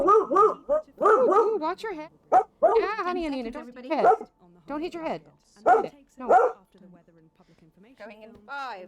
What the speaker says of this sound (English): Sorry for the dog barks.